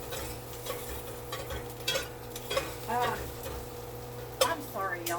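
A metal spoon stirs potato soup in a metal pan, giving repeated scraping clinks over a low steady hum, close and moderate, with a voice talking at times.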